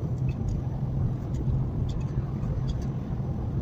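Steady low engine drone of a car in fourth gear while towing a caravan on a road, continuous and fairly loud from inside the cabin, with no talk.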